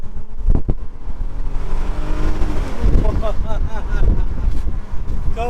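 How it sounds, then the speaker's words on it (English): A 3.2 V6 Audi A3 with a DSG gearbox revs and accelerates, its engine pitch climbing in sweeping rises, with wind buffeting the microphone throughout. "this car's going and it sounds brilliant"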